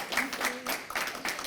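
Audience applause at a library lunch talk, a short burst of scattered clapping from a modest crowd, fairly close and moderately loud.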